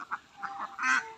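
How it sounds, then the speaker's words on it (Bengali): Ducks at a duck farm pond give a few short, faint quacks, followed by a longer, louder honking call near the end. "পুকুরের সাথে বসে আছে হাঁস।"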